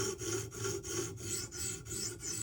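Spyderco Para 3 knife with a factory edge being sharpened against a stone, steady rhythmic back-and-forth rasping strokes about every third of a second, close and even, with no voices.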